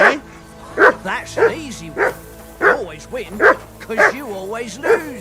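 Dog barking in the video game Kingdom Come Deliverance 2, a series of about eight short, evenly spaced barks and yips running under two characters' conversation.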